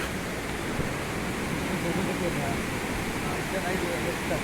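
A large waterfall in the Konkan during heavy rain, heard as a loud, unbroken roar of falling water close to the microphone, with a broad, even wash of noise and no distinct voices.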